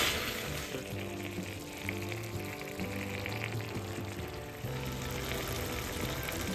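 Roasted coconut stirred into a beef curry in a pan, a Kasaragod palli curry made in a church. Steady, close sizzling and frying runs throughout with soft stirring scrapes and no talk.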